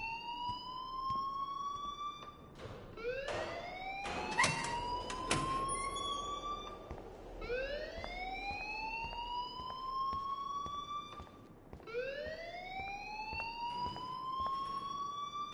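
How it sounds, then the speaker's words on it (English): Inside the Life is Strange video game, an electronic alarm wails in repeated rising sweeps, steady and continuous at a moderate distance, with a few sharp clicks partway through. "please turn off that alarm since that's your job"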